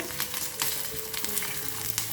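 Steady, loud sizzling of curry leaves frying in hot oil as a tempering with white sesame seeds, a continuous crackle close up with small pops throughout.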